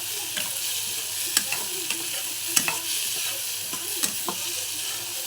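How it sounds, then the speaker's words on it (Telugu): Boiled toor dal stirred into a frying pan with turmeric, a continuous sizzle broken by repeated scraping strokes of a spoon against the pan, close and fairly quiet, with no talking. "అవి వేసుకున్న తర్వాత ఇలా కలుపుకోవాలి."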